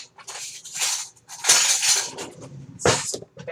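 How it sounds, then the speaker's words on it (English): Kitchen utensils clink and rattle in a few bursts while a spatula is pulled out among them, near and fairly loud, with short pauses between. "Let me get a"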